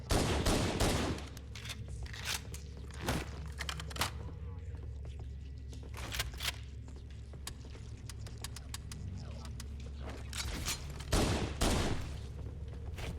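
Gunfire in Halo: Combat Evolved, sharp bursts of rapid shots at the start, then scattered single cracks and a heavy volley near the end, over a low game ambience with faint activity between.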